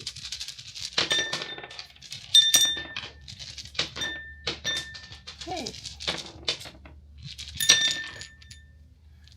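Dice rattle and clatter onto a hard dish in several bursts of sharp clinks and taps, close and fairly quiet, with a brief spoken word.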